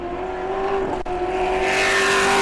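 A pro race truck engine on a qualifying lap at New Smyrna Speedway drones at a high, steady pitch and swells louder as it nears.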